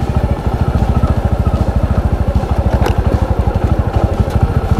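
A Bajaj Boxer 150 motorcycle creeps slowly through icy forest mud at about -3 °C, its single-cylinder engine thumping loud and close in a steady rapid chug, with small clatters from the bike, and no one speaking.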